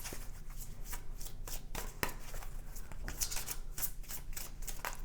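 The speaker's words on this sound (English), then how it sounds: "Sometimes these cards are a little difficult for me to shuffle" A deck of tarot cards being shuffled by hand, a continuous close riffle of crisp rapid flicks and slaps lasting several seconds, with no talking.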